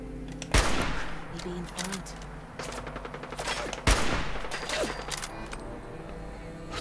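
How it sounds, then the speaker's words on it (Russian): Gunfire in the video game Fallout 4 during a chaotic battle, two sharp loud shots separated by a few seconds, each followed by rattling bursts and clatter. "Второй выстрел мне уже ничего не дал."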